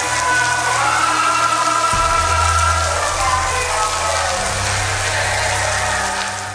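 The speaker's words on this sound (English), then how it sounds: "In the pouring rain," Heavy pouring rain hisses steadily and loudly at the Korean DMZ, a dense unbroken wash with a low droning tone underneath.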